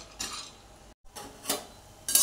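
Sandge lentil dumplings roasting in a pan, with a few short bursts of spoon scraping and clinking against metal separated by brief pauses, faint sizzle between, close and with no talk.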